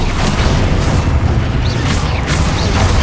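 Spell explosions boom in Hogwarts Legacy, dense, loud continuous blasts and rumbling impacts layered over one another with no pause.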